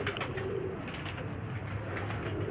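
Pigeons coo softly and repeatedly in a low, rolling murmur, steady and close by, with no talk over them.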